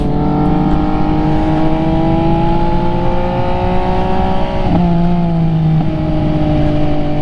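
An MV Agusta motorcycle engine drones loud and steady while riding, its pitch rising slowly through the gears with a brief dip and shift near the end, and no one talks over it.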